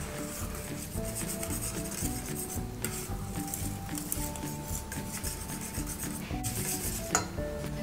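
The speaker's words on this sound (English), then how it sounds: "and then your two eggs two eggs and then mix them up" Two eggs being mixed in a bowl for apple cinnamon roll dough, a continuous scraping, rubbing stir of utensil against bowl, close and steady, with no talk.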